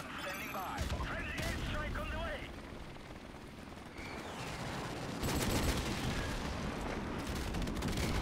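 Explosions and rapid gunfire ring out in a Call of Duty-style 1v1 online match with an airstrike called in. The blasts and shots sound dense and continuous throughout, with bursts that grow louder toward the end and players talking over the game.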